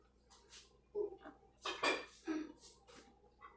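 Metal cake pans handled in a home kitchen, a series of clanks and rattles at irregular intervals, close and fairly loud, with a few clattering knocks bunched together.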